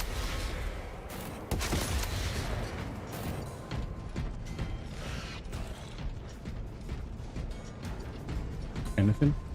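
Slow-firing gun in Space Marine 2, heavy mechanical shots and clanks against a dense, noisy battle background, with a voice talking over it.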